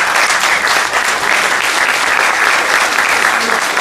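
Steady, dense applause from an audience honoring a guest who stands to be recognized at a talk, loud and continuous throughout with no break.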